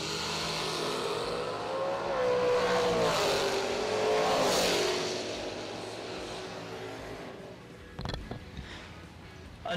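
A dragster engine roars loud and sustained at a drag racing dragster shootout, swelling in pitch as it revs and passes, then fading, followed by a few sharp clanks and bangs near the end.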